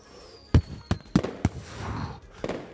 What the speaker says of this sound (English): you hear horns and drums start beating and a few fireworks